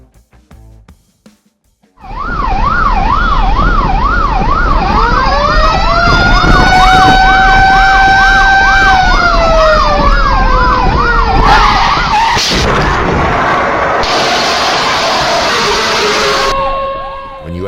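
A loud ambulance siren wails nearby, alternating between fast warbling and long rising-falling tones, with traffic and a vehicle skid on a snowy road mixed in.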